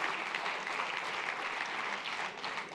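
Sustained applause from a lecture audience at the close of a talk on black holes, a dense, even wash of many hands clapping at steady loudness throughout, with no speech over it.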